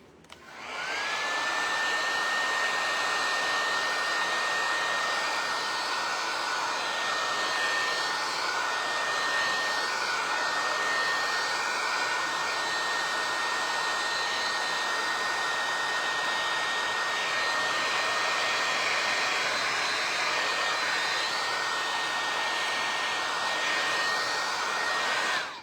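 A hair dryer blows on a decoupage craft project, starting with a click and running as a loud, steady whine and rush of air for about twenty-five seconds before cutting off.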